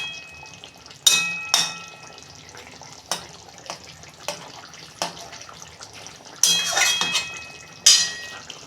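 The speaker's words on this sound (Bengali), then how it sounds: "দেখুন বন্ধুরা, ঢাকনা খুলছি" A lid lifted off a cooking pan during a home recipe of egg curry with potato and pointed gourd, giving sharp metallic clinks and scrapes, with short bursts of hissing sizzle from the hot oil between them.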